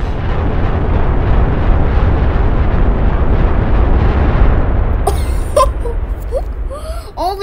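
The planet Earth explodes in a planet-destroying game as a heavy, sustained rumbling blast. The roar holds loud for several seconds, then thins out while scattered crackles and short high tones pop in near the end.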